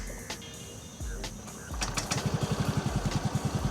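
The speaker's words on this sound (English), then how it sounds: "typical of a 125cc scooter, but it starts very silently" A Yamaha Fascino 125 Hybrid scooter engine starts with a soft click and a quiet whir, then settles into a faint rapid idle putter.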